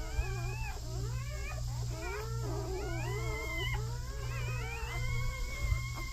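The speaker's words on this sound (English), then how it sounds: "This is one of the healthy males, healthy boy dogs." Healthy male Labrador dogs whining and yelping in a high, wavering chorus, several close overlapping cries over a steady low hum, with no talking.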